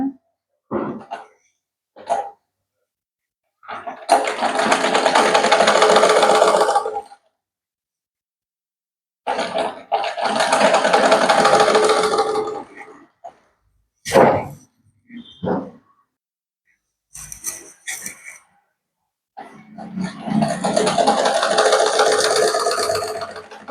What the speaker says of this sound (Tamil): இதுக்கு மேலே அவுட்லைன் போட்டுங்க. அதாவது படிமான தையல்.